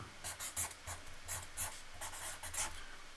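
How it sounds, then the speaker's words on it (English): A pen scratches across post-it notes in quick, close strokes, a faint series of short scribbling bursts with brief gaps between words, alone and quiet. "let me put up a few post-it notes while I'm here"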